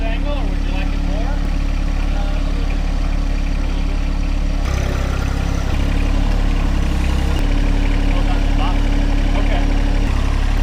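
A tractor engine idles in a loud, steady low rumble close by, with faint muffled voices under the drone.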